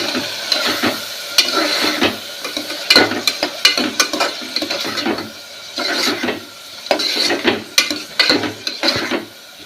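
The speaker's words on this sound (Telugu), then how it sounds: "కొద్దిసేపు దీన్ని మనం ఆయిల్లోనే ఫ్రై చేసుకున్నాం" Drumstick (moringa) pieces fry in hot oil in a pan, a steady sizzle broken by repeated scraping stirs and clinks of a spoon against the vessel, close and fairly loud.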